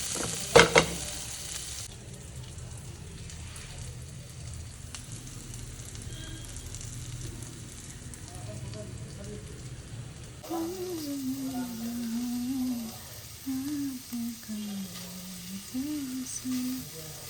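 Vegetables and paneer fry in a pan with a soft, steady sizzle and occasional stirring. The cooking stays fairly quiet throughout, and a person talks over it in the latter half.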